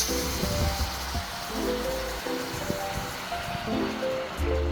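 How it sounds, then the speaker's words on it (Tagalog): Hot water pours in a continuous rushing stream into a cooking pot of paksiw na bangus, a steady wash of sound with low bubbling and clinks under it. "Nilalagay ko na tubig yung medyo mainit na."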